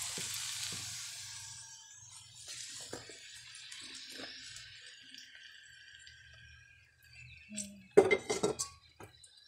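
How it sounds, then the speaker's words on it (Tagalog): Hot frying oil poured off a pan after frying eggplant, a soft sizzle under clinks and scrapes of cookware, ending in a louder burst of metallic clatter near the close. "tatanggalin ko po yung mantika"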